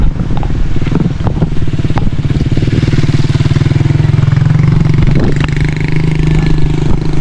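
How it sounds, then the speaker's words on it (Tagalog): Motorcycle engines at the Kipot River bathing spot, a loud close steady idling putter with rhythmic chugging and occasional clatter, running the whole time without talk. "Yan o, daming motor."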